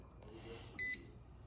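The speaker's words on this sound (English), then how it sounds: "it starts beeping, and it'll tell you to put the regulator on" An electric pressure canner gives one short, bright electronic beep over a faint hum while canning tomato passata.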